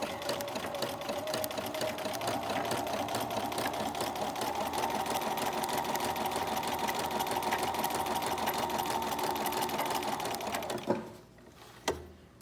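A sewing machine zigzag-stitches fabric, a steady, fast mechanical whir up close that runs about eleven seconds, then stops with a couple of clicks.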